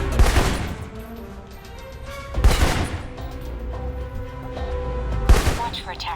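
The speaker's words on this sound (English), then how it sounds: "For long-range encounters, the assault rifle's the key." Assault rifle gunfire in the video game Alpha Protocol: three loud bursts of shots about every two and a half seconds, each a sharp broadband crack with a short ringing tail over a steady low game backdrop.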